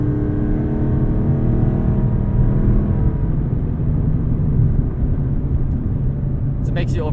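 A 2012 Mustang Boss 302 drives on back roads, its engine a steady low rumble heard from inside the car, with tone shifting slightly and no talk over it.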